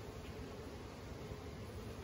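Honey bees at a hive during honey extraction, a dense steady buzzing drone that fills the whole stretch evenly at low volume, with no voices.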